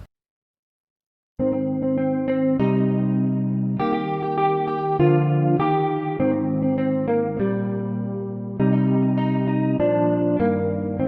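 A guitar rings out in sustained Afrobeats-style chords thickened by a shimmering chorus effect, loud and steady after a brief silence, with no talking.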